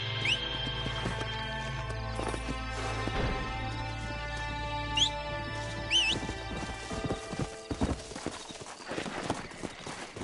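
Horses in the video game Red Dead Redemption, with steady hoof clip-clops and several sharp neighs and whinnies rising over a busy game backdrop, the hooves growing louder and more scattered toward the end.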